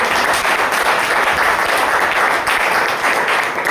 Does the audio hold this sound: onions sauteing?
no